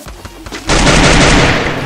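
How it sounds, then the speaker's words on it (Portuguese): Loud automatic gunfire erupts in a squad shooter video game after a quieter stretch, then continues as a dense, sustained burst of rapid shots. "Não tô vendo gente, tão atirando lá, hein?"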